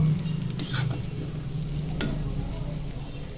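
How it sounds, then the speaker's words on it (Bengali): Chopped onion and garlic fry in a pan with a steady, close sizzle, broken by a couple of quick utensil scrapes against the pan. "পেঁয়াজ রসুন কুচি দিয়ে ভেজে নিব"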